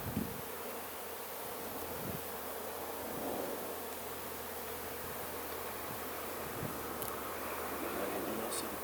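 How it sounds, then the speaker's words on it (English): Honey bees in an open hive make a steady, dense buzzing hum that holds at an even level throughout, with no talk over it. "And see bees feeding each other."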